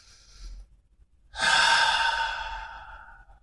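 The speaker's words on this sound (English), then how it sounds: "So take a deep breath." A single deep breath: a brief faint inhale followed by a long, audible, airy exhale that trails off slowly, close to the microphone with no speech.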